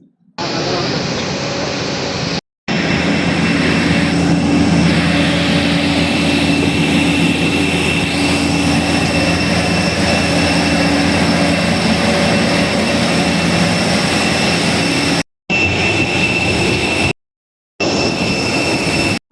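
Loud, steady roar of airliner jet engines during boarding for a Sharjah to Coimbatore flight fills the air with a constant whine, broken by a few brief cutoffs.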